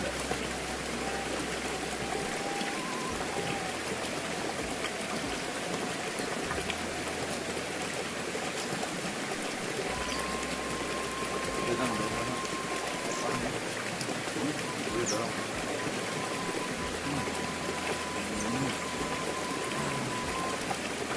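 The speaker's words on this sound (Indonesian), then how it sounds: "Lagi gerimis-gerimis." Light drizzle falls steadily outdoors, a constant fine hiss of drops with no pauses, carrying faint background sounds beneath the rain.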